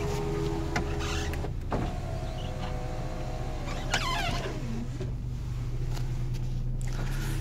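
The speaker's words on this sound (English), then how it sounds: "Hit this button and all four will go down." Electric motors whine as all four power windows of a 2001 Saab 9-3 convertible lower together, a steady mechanical hum with small clunks and shifts in pitch over several seconds, heard up close inside the car.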